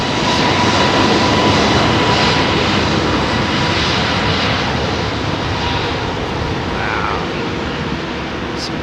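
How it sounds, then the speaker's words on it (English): An American Airlines Boeing 777-200 with Rolls-Royce Trent 800 jet engines winds up at London Heathrow on a blustery day, giving a loud, steady broadband roar with a faint whine that holds throughout and eases slightly toward the end. "You might hear this 777 winding up on its way."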